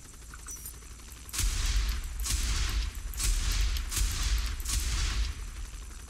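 Rapid bursts of gunfire in Saints Row The Third, aimed at a car: several loud volleys of shots in quick succession with brief gaps, heavy low booms under crackling reports, no talk.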